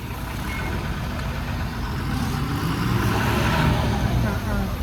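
A heavy truck loaded with bananas, its tyre stuck in rain-soaked mud, roars steadily with a loud, strained engine note that swells slightly toward the middle and stays continuous throughout.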